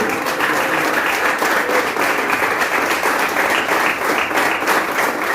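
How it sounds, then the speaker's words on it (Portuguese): A church congregation applauds steadily during a Communion service, a dense, loud, continuous wash of many hands clapping that holds at an even level throughout. "Então aplauda mesmo. Já que é para aplaudir."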